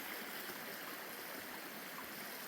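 Steady, close rushing and burbling of a creek flowing through a snowy landscape, a continuous broad wash of water with no breaks and no voices.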